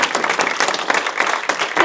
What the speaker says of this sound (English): Let's give a round of applause for all those.